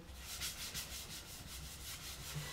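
A cloth rubs cellulose sanding sealer into the wooden hoop of a banjo, giving a steady, soft back-and-forth swishing with rhythmic strokes, close and very quiet, with no voices.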